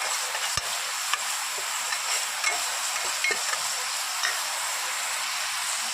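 Ginger-garlic paste frying for khichuri in a pan, a constant bright hiss with scattered sharp ticks and a few faint scrapes of stirring, steady throughout with no talking.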